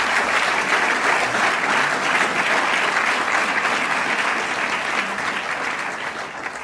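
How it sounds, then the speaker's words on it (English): An audience at a 2019 senior awards ceremony applauds the class of 2019, with loud, dense, steady clapping from many hands that carries on without a break and eases slightly toward the end. "I now ask you to applaud the class of 2019 for a job well done."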